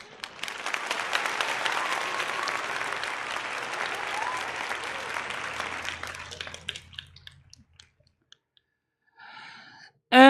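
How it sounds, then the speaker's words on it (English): A crowd applauds loudly for about six seconds, then the clapping thins into a few scattered claps and fades to near silence before a brief burst of other sound at the end. "Let's give him some applause here."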